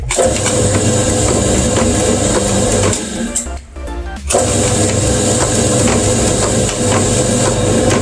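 A Yamaha Aerox scooter engine, freshly rebored with a new cylinder liner, runs loud and close in a steady, smooth rev that dips briefly near the middle before climbing back, with no voices.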